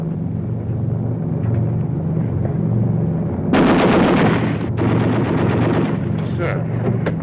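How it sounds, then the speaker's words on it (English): Aircraft machine guns rattle in a loud burst of rapid fire over a constant droning engine rumble, followed by a second shorter burst, with brief voices around. "I will now request the gunners to clear their guns."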